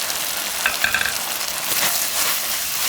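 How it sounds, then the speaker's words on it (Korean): Pork stir-fries over high heat with fermented seasoning and a little garlic, giving a steady close, loud sizzle and crackle with brief stirring clatter and no talk. "강불에서 볶아주세요."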